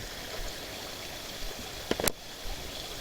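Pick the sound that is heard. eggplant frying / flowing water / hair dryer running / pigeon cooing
flowing water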